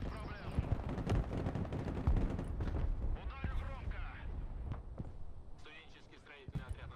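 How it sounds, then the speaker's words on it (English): Ballistic missiles strike in the modern-warfare strategy game Broken Arrow, producing dense, rumbling blasts and rolling impacts that fade toward the end, with commentary layered over the explosions. "Both sides seem to be using ballistic missiles."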